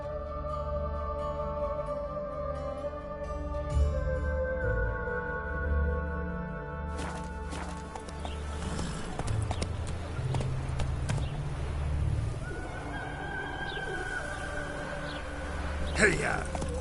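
A horse in The Witcher 3 trots along, its hooves clip-clopping in a steady rhythm under game music and ambience, with a rider's urging calls heard now and then.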